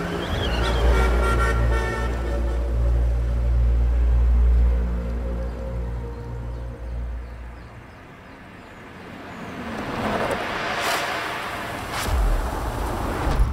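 A car drives along a dark road at night, its engine loud and rumbling up close before easing off, then picking up again as a couple of short horn toots sound toward the end.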